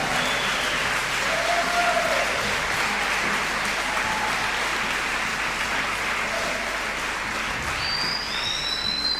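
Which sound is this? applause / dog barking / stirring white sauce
applause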